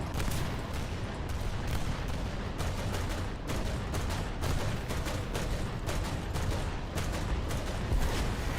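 Dense, continuous gunfire in War Thunder during Swedish Rank IV aviation combat, a loud steady rattle of impacts and shots hammering on with no pause.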